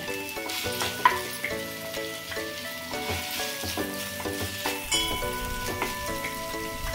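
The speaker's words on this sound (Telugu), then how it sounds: "ఇప్పుడు ఈ ముక్కలు వేసేయాలి. ఇంట్లో చింతపండు గురించి తీసి పెట్టుకున్నా కదా, అది కూడా వేసేయాలి." Chopped banana stem pieces and tamarind hit hot oil in an Andhra-style curry pan, giving a steady, close sizzle and crackle that runs the whole time over soft background music.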